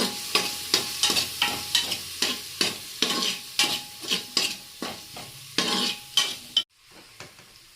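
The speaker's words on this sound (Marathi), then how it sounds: "त्याच्यामध्ये एक बारीक चम्मच आपण हळद टाकूया ते चांगलं मिक्स करूया" Onion-tomato masala with turmeric frying in a pan for a mutton dish, stirred in quick regular scrapes, about two per second, over a loud sizzle, the stirring ending abruptly near the close and leaving only faint hiss.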